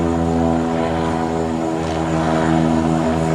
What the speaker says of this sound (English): The plane touched down safely.